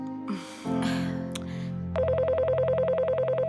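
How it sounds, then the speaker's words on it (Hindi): A telephone rings indoors in a home during a house party, its electronic warble repeating steadily and loudly after some brief talk and rustling. "ये देखो, फोन बज रहा है"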